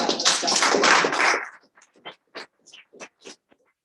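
Audience applause at a hybrid community meeting, a dense burst of many hands clapping for about a second and a half, then thinning to a few scattered separate claps.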